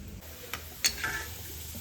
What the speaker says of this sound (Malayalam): അപ്പോൾ ഇത് കടു വറുത്തൊഴിക്കട്ടെ